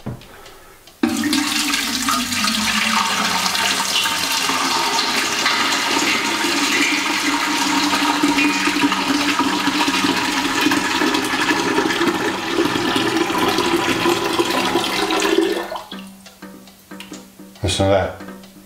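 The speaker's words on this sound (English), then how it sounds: "And then you just fill it right up." Water pours steadily into a one-gallon teapot for a water filtration setup, a continuous rushing splash with a rising tone as it fills, then stops abruptly near the end with a few brief clinks.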